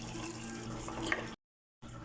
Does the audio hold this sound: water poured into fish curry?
yes